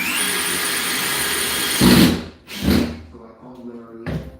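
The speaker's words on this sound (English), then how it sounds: "So I'm gonna put screws in every joist and every on the end of the plywood" Power drill driving deck screws through plywood into floor joists during a home renovation, a steady motor whine that surges in a few short bursts, near and loud, with a voice nearby.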